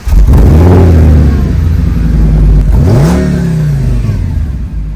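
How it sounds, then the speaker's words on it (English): Audi S6 Avant with a 5-litre V10 blipped hard twice, each rev rising sharply then falling back, loud and close, with no talk. "an Audi S6 Avant with the 5-litre V10"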